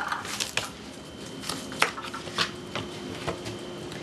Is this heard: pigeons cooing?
no